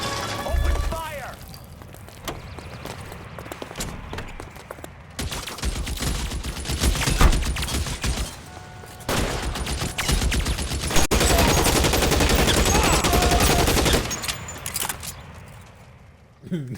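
Tommy gun bursts in the video game L.A. Noire, loud sustained automatic fire rattling in long stretches, with crashes and shattering mixed in and a voice talking over it.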